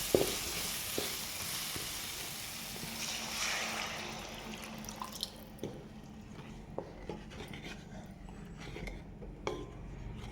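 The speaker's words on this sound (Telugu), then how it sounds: "ఇందులోకి పిప్ తీసి పెట్టుకున్న చింతపండు వాటర్ని ఇందులోకి ట్రాన్స్ఫర్ చేసుకోండి" Seedless tamarind water goes into a pan of Telugu fish pulusu (fish curry), giving a soft, steady sizzle and bubbling with a few faint utensil clinks and scrapes. The whole clip stays quiet, with no voices.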